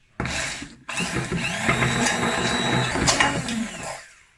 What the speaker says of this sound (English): I'm going to be using my Bamix stick blender to just blend this into a smooth, creamy texture